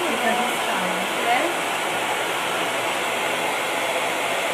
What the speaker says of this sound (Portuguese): eu vou ter que usar só um pouquinho mais o secador